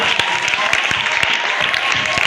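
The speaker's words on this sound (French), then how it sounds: "Est-ce qu'on peut acclamer le Seigneur?" Church congregation clapping and acclaiming the Lord, a dense, loud burst of applause with rapid overlapping claps and a faint crowd murmur throughout.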